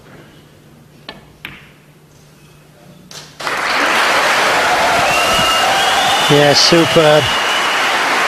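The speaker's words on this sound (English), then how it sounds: "Wait for the cheer when this green goes in." Snooker crowd at the Paul Hunter Classic breaks into a loud, sustained cheer and applause as the green ball is potted, with a commentator talking briefly over the noise.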